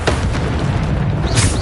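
Bombarda spell blast in a Harry Potter video game, a loud continuous booming rumble lasting the whole moment with a brighter burst near the end, over dense game effects and no talk.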